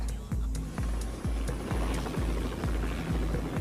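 A helicopter in the video game Hitman 3 drones steadily with a rhythmic rotor thump repeating about twice a second, loud and close throughout.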